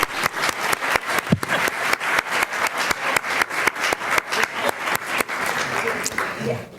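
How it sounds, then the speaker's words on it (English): A crowd at a school district recognition ceremony claps in a fairly steady, near-rhythmic beat, the loud claps keeping an even pace with a light murmur of voices underneath. "but let's give them a round of applause."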